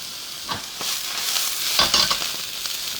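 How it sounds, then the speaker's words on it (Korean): Vegetables searing in a very hot pan for Korean spicy stir-fried pork, a steady bright sizzle with scattered scraping stirs and pops rising through it, close and without speech. "이 뜨겁게 달궈진 팬에 자, 채소들을 약간 구워준다는 느낌으로 계속 막 뒤집지 말고 그냥 구워요"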